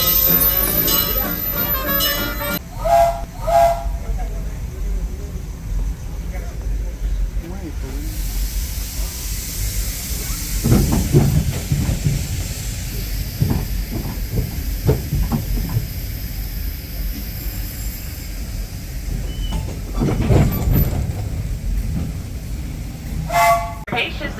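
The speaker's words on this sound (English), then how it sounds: "This train is about to be in motion" A Disneyland Railroad steam train hisses and chuffs as it starts to move, with a brief whistle at the start and bursts of steam released in slow rhythm.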